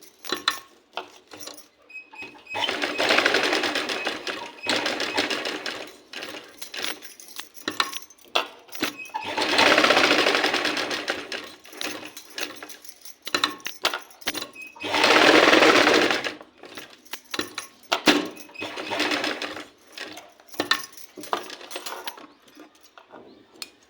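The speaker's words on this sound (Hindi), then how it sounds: "ये देखिए हमने सिलाई मार दिया है।" Electric sewing machine stitching a sleeve design: three runs of fast, steady close-up stitching rattle separated by clicks and fabric handling.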